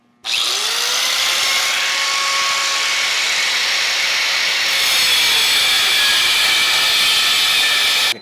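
A power tool cuts the corners off the end of a support bar being prepared for welding, making one continuous, loud, high whine that starts abruptly, holds for about eight seconds and stops sharply.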